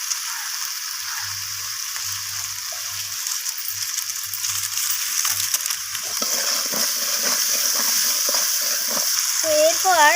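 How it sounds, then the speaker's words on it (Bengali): Potatoes with ginger paste sautéing in a pan, a steady close sizzle with scraping stir strokes and a few clinks; a brief voice appears near the end. "আদা বাটাটা দিয়ে আমি আলুর সাথে আবারও মিশিয়ে নিয়ে কষিয়ে নিচ্ছি।"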